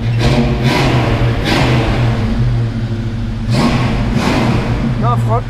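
A car engine revs repeatedly in quick bursts, rising and falling as the accelerator is pressed, loud and close, with voices talking over it.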